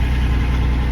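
A V6 engine idles through a new Flowmaster FX axle-dump muffler, giving a steady, loud, low rumble with an even pulsing throb that holds unbroken for the whole second.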